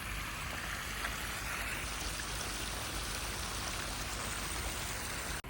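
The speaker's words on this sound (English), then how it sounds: "Waterfall." Waterfall in Malmö harbour, a dense continuous rush of falling water, loud and steady throughout with no talking.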